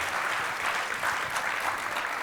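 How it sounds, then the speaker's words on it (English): Enthusiastic audience applause at a real estate business event, a full continuous patter of many clapping hands at even loudness across the whole moment, with no speech over it. "Let's give Sharon an absolutely huge round of applause"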